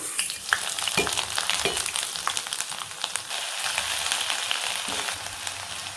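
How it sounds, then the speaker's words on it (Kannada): Mustard seeds, cumin, urad dal, crushed garlic and ginger sizzle in two tablespoons of hot oil, a steady dense crackle and spatter with a few soft low knocks from stirring, close and continuous without any voice. "2 ಟೇಬಲ್ ಸ್ಪೂನ್ ಎಣ್ಣೆ ಕಾದಿದ ಮೇಲೆ ಸಾಸಿವೆ, ಜೀರಿಗೆ, ಉದ್ದಿನಬೇಳೆ, ಬೆಳ್ಳುಳ್ಳಿ, ಶುಂಠಿ ಜಜ್ಜಿಟ್ಕೊಂಡಿದ್ನಲ್ಲ ಅದು ಹಾಕಬೇಕು"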